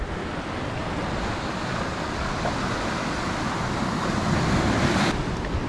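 Sea waves crash against rocks at Ettikkulam beach, making a steady, loud, broadband roar of surf with wind noise and no voices.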